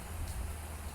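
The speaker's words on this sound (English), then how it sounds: "Whoops, and it's raining." Rain falls in Minecraft Bedrock as a steady, even hiss of fine drops, continuous and moderately loud with no other sounds.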